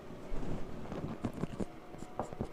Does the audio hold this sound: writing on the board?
yes